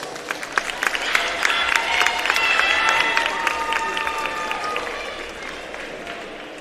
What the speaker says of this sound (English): Please give a round of applause for Haley Brooks.